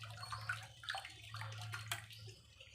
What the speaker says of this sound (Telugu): కడగాలి ఇట్లా శుభ్రం కడుక్కోవాలి.